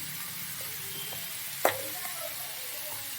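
Prawns with turmeric stirred in a frying pan for a taro-stolon prawn curry, a steady low sizzle with one sharp scrape of the utensil midway, no talking.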